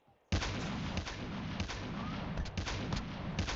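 Dense, continuous gunfire and explosive bursts in a multiplayer shooter video game, starting abruptly after a brief quiet lead-in and staying loud and sustained with repeated sharp cracks throughout.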